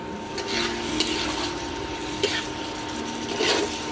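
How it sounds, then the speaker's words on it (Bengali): Ground spices with cardamom frying in oil for a Bengali-style chicken curry, a continuous soft sizzle with a few scrapes of stirring and light utensil taps, with no voices. "এবার কষে নেবো ভালো করে মশলাটা।"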